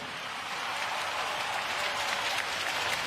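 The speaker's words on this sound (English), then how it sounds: "Another round of applause for our NS men." A parade crowd at Singapore's 2017 National Day Parade applauds national servicemen, producing a steady, broad wash of clapping from a large audience that sounds somewhat distant.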